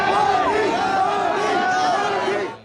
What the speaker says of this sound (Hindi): उनके स्वागत के लिए सड़कों के किनारे लोगों की भारी भीड़ उमड़ पड़ी